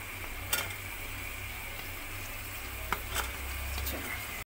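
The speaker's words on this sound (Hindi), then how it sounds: "पहले प्याज फ्राई करूंगी" Onions fry in a pan for beef karahi, giving a steady, close sizzle that holds for several seconds with a couple of brief stirring scrapes and clinks and no talking.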